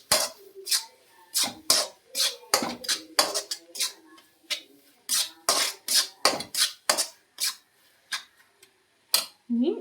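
A spoon stirs chili powder into Kerala-style chicken curry in a pan, making a close, irregular run of sharp scraping clinks and knocks against the metal, with brief pauses between strokes.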